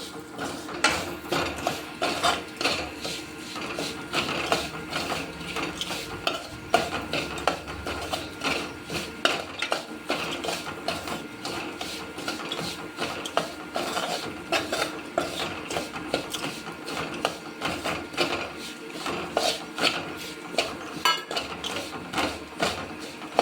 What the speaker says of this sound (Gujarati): ભડકું નાખીને સરસ શેકી લેવાનું છે